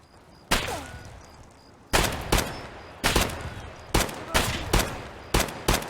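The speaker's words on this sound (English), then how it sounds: "shots coming from multiple directions" Gunfire in the Escape from Tarkov video game. About seven loud, booming shots ring out at irregular intervals, each with a decaying echo tail.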